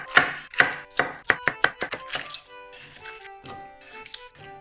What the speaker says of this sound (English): the rest of these we're just gonna cut into about 3 to 5 centimeter pieces